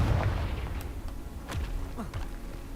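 A Confringo fire spell in Hogwarts Legacy goes off with a booming blast, followed by crackling, popping bursts that fade into a rumbling background.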